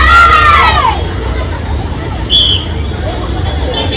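Crowd at a local theatre re-release of the film Appu: loud babble and cheering from many people, with traffic rumble and a sweeping whistle-like tone near the start.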